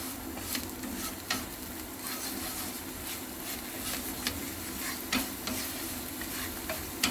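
Cheese-turkey scrambled eggs being stirred in a pan on a stovetop over medium heat, with a steady sizzle and close scraping and stirring clicks throughout.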